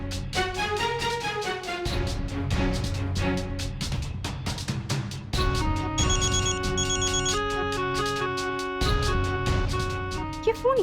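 A mobile phone plays a melodic ringtone, a looping tune with bright tones that rings on steadily and fairly loud.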